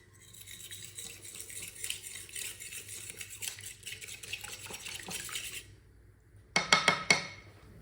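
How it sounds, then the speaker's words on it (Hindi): Egg being whisked in a bowl while cooking a Punjabi winter breakfast, a steady scraping and clinking of utensil against the dish for several seconds, then a short burst of sharper clinks near the end. "एक अंडे को अच्छी तरह मिक्स कर लेंगे।"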